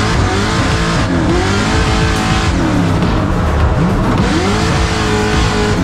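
A V8 drift car laps a track at Mondello Park in a smoky drift run, engine roaring loud and close with shifting revs and screeching tires, continuous and dominant.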